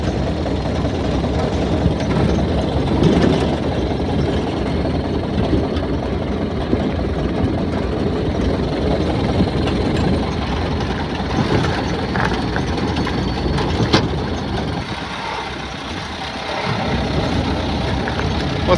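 A tired, worn engine in a 4x4 restomod idles steadily at moderate volume, a rough continuous low drone with slight unevenness that dips briefly near the end.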